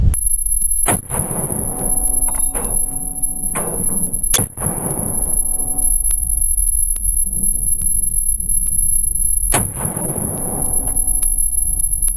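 Outdoor rifle shots from a 5.56 NATO rifle firing green-tip rounds at squash ring out as several sharp, loud cracks spaced a few seconds apart, each with a short echoing tail, amid a high steady whine.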